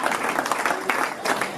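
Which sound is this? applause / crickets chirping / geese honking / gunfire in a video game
applause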